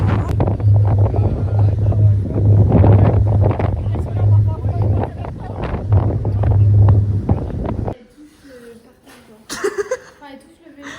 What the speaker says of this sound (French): en vrai ça fait du bien le vent frais